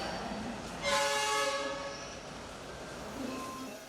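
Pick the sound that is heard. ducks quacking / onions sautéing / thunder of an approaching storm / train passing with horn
train passing with horn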